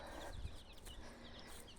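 Soft, faint clucking from a brooding hen named Zoé, with a few high chick peeps in a quiet farmyard setting.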